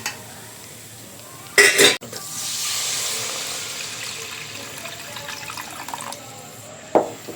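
Water is poured into sizzling masala in a hot pan for paneer masala, bursting into a loud sizzle that settles into a steady hiss, with a clatter of utensils before and after.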